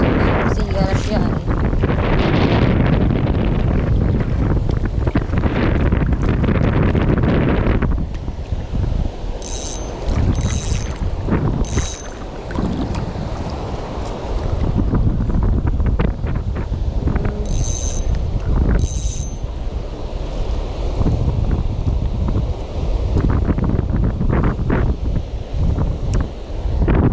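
Strong wind buffets the microphone in a loud continuous roar on a fishing boat, with water and engine rumble underneath and occasional voices.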